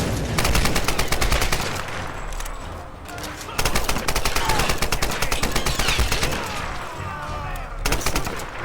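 Gunfire in a Tomb Raider video game comes in rapid automatic bursts with brief pauses between them. Someone talks over the shooting in parts of it.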